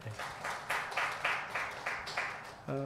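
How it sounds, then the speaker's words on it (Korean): Rhythmic clapping in unison at an online Korean church worship service: about eight evenly spaced, fairly quiet claps in a steady beat, followed by a brief voice at the end. "함께 박수하겠습니다."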